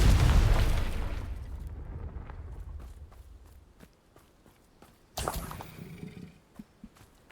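A Confringo spell explosion in Hogwarts Legacy opens with a loud, close boom that rolls off into a fading rumble, followed by footsteps and a second, sharper burst.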